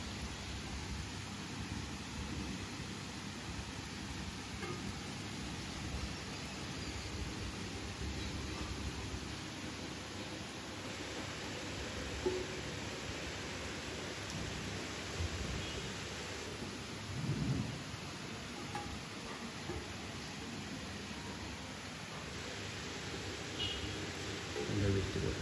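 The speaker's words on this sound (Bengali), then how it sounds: "হ্যাঁ, পুরো বৃষ্টির আওয়াজ শোনা যায়, কথা বলা বন্ধ করে সুন্দর লাগবে শুনতে।" Steady rain pours down all morning around a house, a dense continuous hiss with low rumbles of thunder rolling through at a distance, no voices over it.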